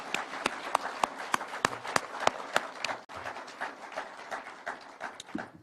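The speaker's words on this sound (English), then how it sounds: "I think these good people deserve a clap" A crowd at a political speech gives applause made of sharp, rhythmic claps at first that blur into a dense, steady clatter, heard from a moderate distance with no talking.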